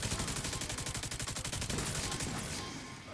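Rapid automatic gunfire in The Division 2, a loud, dense stream of regular shots for about two seconds that thins into a lingering rumble and echo, with no talk.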